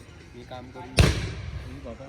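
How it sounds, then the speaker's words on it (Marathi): At an outdoor engagement ceremony, a firecracker is test-fired with one sharp, loud crack that decays over about a second, standing out above steady background crowd chatter. "तिकडे टेस्टिंग चालू आहे फटाक्यांची"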